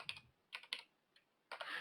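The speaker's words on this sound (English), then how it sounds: "I'm just typing here go to next" Quick bursts of typing on a computer keyboard, a few clustered keystrokes separated by short pauses, close and fairly quiet, with no talking.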